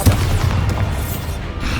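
A Bombarda spell explosion in Hogwarts Legacy booms out loud and close, a heavy low rumble with a short blast at the start, then a sustained roar of battle noise.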